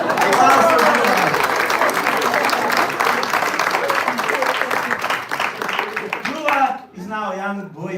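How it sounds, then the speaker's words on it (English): Applause from an evening celebration audience greets Dhruva at a drama gathering, steady dense clapping filling the room before voices take over near the end. "Applause for Dhruva."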